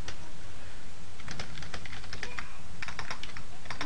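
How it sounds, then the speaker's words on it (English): Rapid, uneven typing on a computer keyboard, clicks coming in bursts with short pauses, close and fairly loud with no talking. "I'm like fumbling around so much on the keys"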